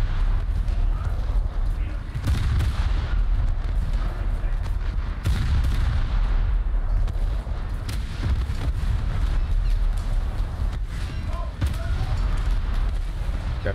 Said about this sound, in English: Alright, we'll just go down firing.